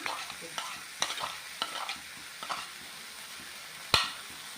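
Vegetables sauté in Shankar fish oil, a soft sizzle broken by repeated scraping strokes of a spatula, ending with one sharper metallic knock against the pan.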